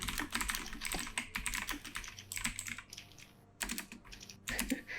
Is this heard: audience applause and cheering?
no